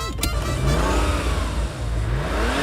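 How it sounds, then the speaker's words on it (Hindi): A cartoon car starts up and pulls away, giving a loud, close, rising engine roar and whir that holds steady for a few seconds, with a sharp click near the start and no speech. "मैं गाड़ी चलाता हूँ"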